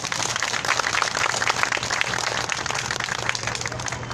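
Outdoor crowd applause at a weekly protest rally, with steady, dense clapping from many hands sustained throughout at moderate loudness and no talk over it.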